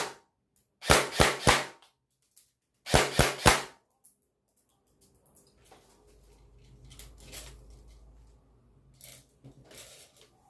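Two quick volleys of three sharp gunshots ring out against a car prototype during a ballistics test, loud and close, followed by a low rumbling background hum and scattered faint clatter.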